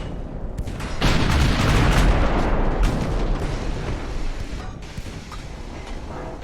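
Warship guns fire in Ultimate Admiral: Dreadnoughts, opening with a heavy boom that rolls into a long, loud rumble of further shots before slowly fading.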